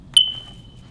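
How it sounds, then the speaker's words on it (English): A single sharp, high electronic chirp from a smoke alarm signalling low batteries, brief and clear with a short ringing decay in a quiet room. "It's coming from the smoke alarm."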